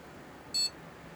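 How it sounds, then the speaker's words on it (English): A single short, faint electronic beep from a PC motherboard at boot, in a Fractal Ridge mini gaming PC build, standing out briefly against quiet room hiss. "Yes, a beep. That means we're going to boot."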